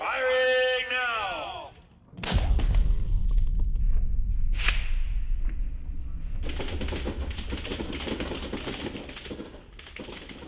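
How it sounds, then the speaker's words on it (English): Rifles fire on a Marine Corps rifle range: a loud sharp crack with a deep boom, a later report, then a dense stretch of overlapping shots and range noise, following a shouted command. "Rifleman, you may commence firing now!"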